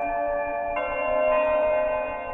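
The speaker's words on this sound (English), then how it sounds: "And we get to hear the great church bells, of course." Church bells chime in the Five Nights at Wario's horror video game, sustained bright ringing tones that layer and swell over a couple of seconds, loud and alone with no talk.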